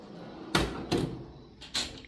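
Drawers of a Snap-on mechanic's toolbox in a VW/BMW repair shop slide and bang shut, three sharp metallic clunks spaced unevenly, loud and close with no talking.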